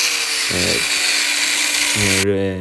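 A power tool cutting round steel bar stock for a blacksmith tong rivet, a loud continuous high whine with a brief voice partway through and a speaking voice near the end, when the cutting noise stops abruptly.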